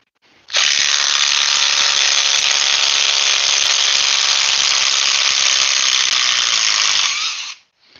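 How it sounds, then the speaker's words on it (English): A 12 volt cordless drill runs for about seven seconds in one continuous high-pitched whine, starting and stopping abruptly, loud and close with nothing else heard. "I know I've got their 12 volt drill"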